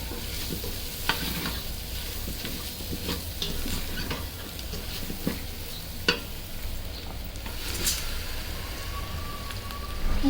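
Khichuri spices, salt and added pieces being stirred and mixed in a hot pot for bhuna khichuri, a constant close sizzle broken by repeated scraping and clicking strokes of the spoon, with no voices.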